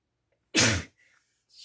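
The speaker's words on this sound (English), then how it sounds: "I think that's the first time I've sneezed on a YouTube video" A single loud, close sneeze from an adult in a cold basement, sudden and explosive, followed by a faint breath and a soft rustle in an otherwise quiet room.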